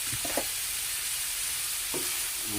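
Shrimp and pork sauté in a pan, a constant bright sizzle with a few brief stirring knocks near the start and again toward the end.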